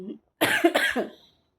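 A person gives a close, loud cough in a single harsh burst with a few rough pulses, after a faint brief sound and before silence.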